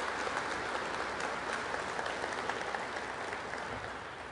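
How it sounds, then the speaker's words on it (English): Convention centre audience in Calgary claps steadily for the kitchen staff, a full, even wash of applause heard from within the crowd, tapering slightly toward the end. "Can we give them a round of applause, the people from the Calgary Toast Convention Centre?"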